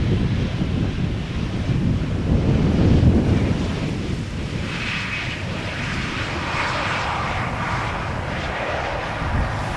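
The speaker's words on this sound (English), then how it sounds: "This is Transavia flight 5792 arriving from Preveza." A Transavia airliner arrives at Amsterdam Schiphol Airport, its loud jet roar swelling and then easing as it passes, with heavy wind buffeting on the microphone and no voices.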